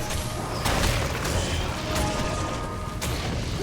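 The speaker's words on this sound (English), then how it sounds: "I kind of want the enemies to be clumped up like this so I can use Corpse Explosion with more effect" Dense, rumbling game-combat clamor from Diablo 2: Resurrected with a Corpse Explosion spell bursting among clumped enemies: broad crashing blasts near 0.7 s, 2 s and 3 s over continuous mechanical clatter, loud and close.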